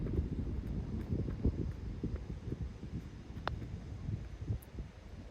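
Steady wind buffets the microphone on a golf course, a constant low rumble with gusty swells throughout.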